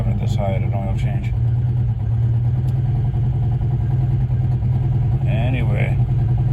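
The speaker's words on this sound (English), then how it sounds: "I shouldn't be revving it this high at an oil change." A car engine revving hard during an oil change, a loud, steady droning roar that holds high throughout, with a voice talking over it.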